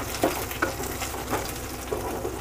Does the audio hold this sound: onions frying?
yes